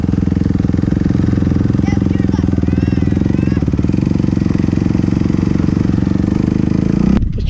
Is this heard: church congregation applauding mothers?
no